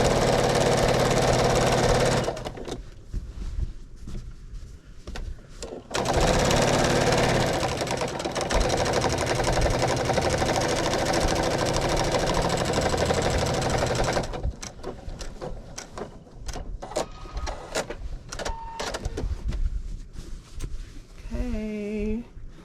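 A sewing machine stitches quilt binding, with back stitches at the stops and starts, in loud sustained bursts of rapid mechanical whirring broken by quieter gaps of handling and small clicks.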